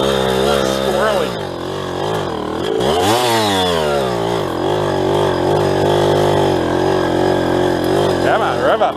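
An old mini bike engine, recovered after 30 years in the woods, revs up and down in rising and falling bursts, loud and buzzy and close by, with talk in the background.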